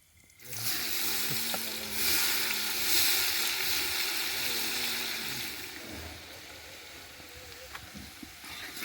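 Garlic hits hot oil already tempered with cumin and asafoetida in an outdoor farm-field kitchen, bursting into a loud broad sizzle that holds steady and slowly eases, with occasional faint knocks.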